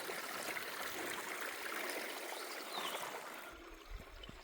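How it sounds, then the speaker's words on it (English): A small creek on a mountain trail, its water flowing and trickling in a faint, steady wash close by, with a few low thumps near the end. "Nice little creek here."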